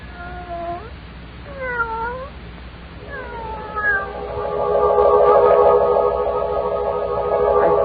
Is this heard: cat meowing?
yes